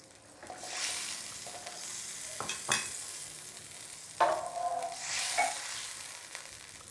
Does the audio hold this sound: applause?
no